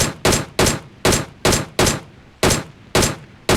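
Nine evenly spaced, loud single gunshots from a weapon in BGMI (Battlegrounds Mobile India), fired one after another at a steady rhythm, each shot sharp and close with a short decaying tail, with no talk.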